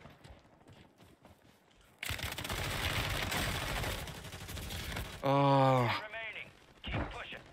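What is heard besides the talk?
sniper gunfire in video game Call of Duty Warzone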